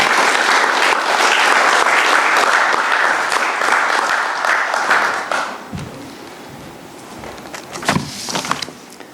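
A conference audience at Camp Constitution gives warm applause, dense and sustained at first, then thinning into scattered claps and rustling as it fades.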